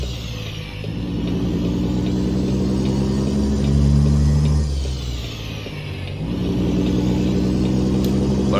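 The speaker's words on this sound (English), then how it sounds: "I do want to give you guys some good engine sounds." A diesel truck engine in American Truck Simulator hums and rumbles steadily, swelling as it revs up, easing off briefly, then building again, loud and continuous with no talk.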